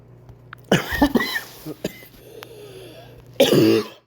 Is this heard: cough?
yes